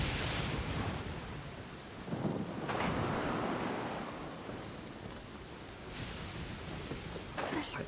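Heavy rain pours steadily through a Genshin Impact storm, with rolling thunder swelling in several broad bursts over the constant downpour; no one speaks.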